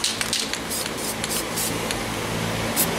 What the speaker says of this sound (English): Spray super light till you get the look that you want.